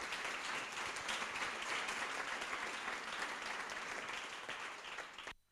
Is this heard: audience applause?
yes